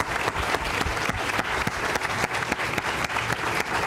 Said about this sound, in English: I think they all deserve a huge round of applause